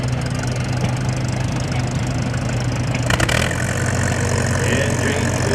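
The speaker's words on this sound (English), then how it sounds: "Turn those engines up." Antique tractor engines run loud and close at a steam engine and antique tractor parade in Berryville, Virginia, a steady mid-pitched rumbling drone with a brief rise in revs partway through.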